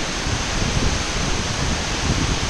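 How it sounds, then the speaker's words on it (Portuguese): A powerful waterfall roars close by as a steady, dense rush of falling water, constant and loud throughout with no voices. "Nossa, que cachoeira braba"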